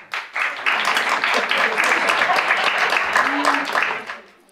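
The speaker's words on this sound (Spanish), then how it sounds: "Aplaudid los que estéis en el Team Rosalía." Comedy club crowd at a stand-up show in Madrid breaks into applause, a burst of clapping with some voices mixed in that swells quickly, holds for a few seconds, then fades.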